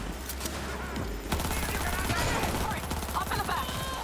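Gunfire in Cyberpunk 2077, steady rapid shots rattling under game noise at moderate loudness, with a character's voice speaking over the firing.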